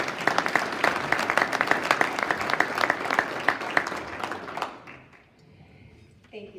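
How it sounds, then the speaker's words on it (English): Audience applause for a builder panel at a building industry lunch, dense steady clapping from a crowd that fades out after about five seconds, leaving a quiet room with faint movement. "Let's give them a round of applause"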